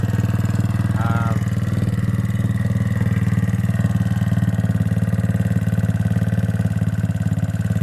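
A Twister Hammerhead motorcycle engine idles steadily with a deep, rapid chugging pulse, close and constant throughout, and no one talks.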